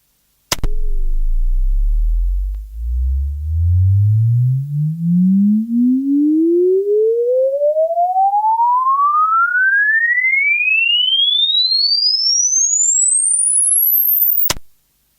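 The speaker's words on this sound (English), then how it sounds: "Please ensure that all tones can be audibly detected" A click, then a steady pure tone sweeps smoothly upward from a deep low pitch to a piercing high one over about fourteen seconds, ending with another click.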